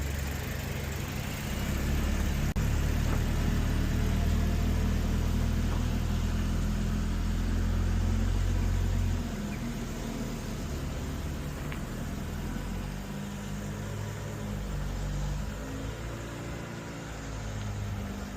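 A Mk3 Ford Escort Bantam bakkie pickup engine runs at a low rumble, revving higher for several seconds before easing back toward a steady idle.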